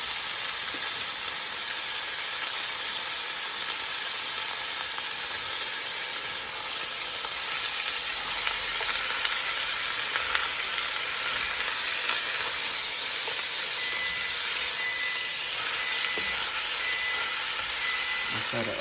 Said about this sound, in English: So we'll get the steak a nice little color tone. Do a little saute.